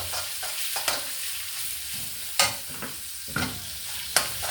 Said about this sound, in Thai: ผัดเอาหมูมาผัดแล้วมันจะอร่อย